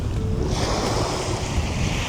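Sea waves wash onto the shore on Samui at sunset, a loud, steady surf roar mixed with wind buffeting the microphone, close by and with no talk.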